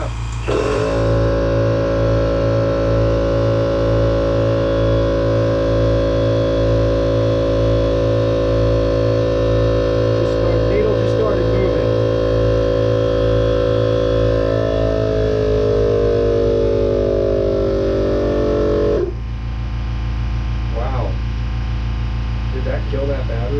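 A Craftsman V20 battery-powered air compressor pumps up its tank, a loud steady motor drone with a pulsing piston rhythm running continuously, dipping in pitch briefly near the end before carrying on.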